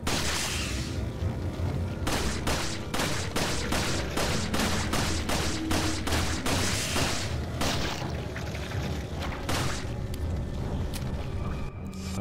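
Repeated gunshots in Resident Evil 4, a steady run of loud, evenly spaced shots fired one after another with a few scattered ones at the start and a dense, noisy game backdrop throughout.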